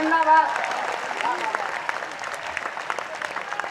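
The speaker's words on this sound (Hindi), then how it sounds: "थोड़ा और जोर से ताली बजा दीजिए।" Audience applause at a Hindi poetry recital in Bhopal, a dense wash of clapping from a crowd, with a voice speaking at the start and clapping continuing steadily.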